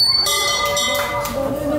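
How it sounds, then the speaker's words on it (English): A bell is rung in a bar, a bright ringing peal with several repeated strikes whose tones hang and overlap, loud and close over a busy room. "going to ring the bell"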